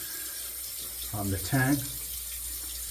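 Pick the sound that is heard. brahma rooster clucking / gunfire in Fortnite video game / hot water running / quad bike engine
hot water running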